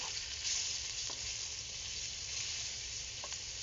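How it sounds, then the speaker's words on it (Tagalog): Onion sizzles steadily in a pan with golden-brown garlic, a close, even frying hiss throughout with a couple of faint clicks. "Pagtapos ng golden brown, susunod na natin itong ating sibuyas."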